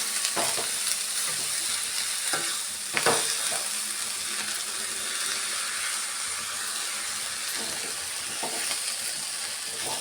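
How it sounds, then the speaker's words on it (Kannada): Avarekalu palya, a Kannada dish of fresh field beans, sizzling steadily in a pan while a spoon stirs and mixes it, with a few light scrapes and knocks against the pan over a constant fry hiss. "ಇದನ್ನು ಒಂದು ಸಾರಿ ಈ ಥರ ಮಿಕ್ಸ್ ಮಾಡ್ಕೊಂಬಿಡೋಣ. ಚೆನ್ನಾಗಿ ಎಲ್ಲ ಚೆನ್ನಾಗಿ ಬೆರಿಬೇಕು,"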